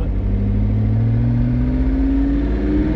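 A car's engine and factory exhaust rev hard on a race track, probably an exotic with a carbon-fiber interior. A loud, steady, close drone climbs gradually in pitch, with no talk.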